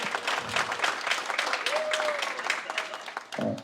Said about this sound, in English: I wasn't expecting all y'all to clap yet